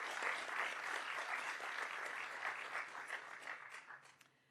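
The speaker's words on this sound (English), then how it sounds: "I think we need a round of applause for that" A round of applause from a conference audience of international participants, steady dense clapping throughout that gradually fades out toward the end.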